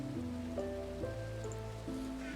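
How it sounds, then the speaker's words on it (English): Steady rain in Minecraft, a soft, even patter that runs quietly under drifting, sustained musical tones, with no voices. "Is it raining out? Okay, it's raining out."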